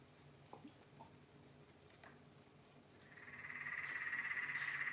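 Crickets kept as feeder insects chirp in short, regular bursts close by, and a denser continuous trill swells up and gets louder toward the end, with no voices.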